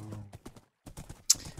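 Horse hooves in a video game clop in short irregular bursts, with a brief pause and a sharp high snort or whinny near the end.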